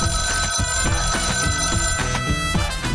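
A telephone ringtone trills on and on, loud and steady, with no talking.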